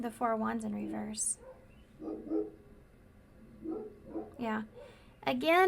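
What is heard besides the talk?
dogs barking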